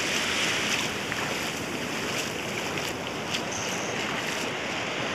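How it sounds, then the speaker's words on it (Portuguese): Ocean waves washing onto a sandy beach, a steady broadband rush of surf and wind noise filling the whole stretch with no talk. "A onda tá vindo aqui."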